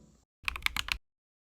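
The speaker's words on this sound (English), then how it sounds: "So these are the Mint Mambo switches by Redragon. These are linear switches and they're very clacky." Typing on a Redragon K740 Dharma 98 Pro aluminum keyboard with Mint Mambo linear switches: a brief burst of about five or six crisp, clacky keystrokes, close and clear, then silence.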